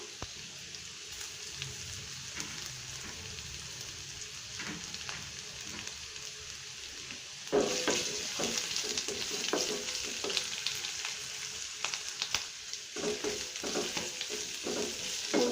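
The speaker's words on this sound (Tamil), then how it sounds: "இப்போ பூண்டை தட்டி வச்சுருக்கிறத போட்டுக்கலாம்" Crushed garlic drops into hot oil for a Tamil moong dal and green bean kootu, giving a steady sizzle that turns louder and brighter partway through as stirring scrapes and clicks in the pan, with no talking.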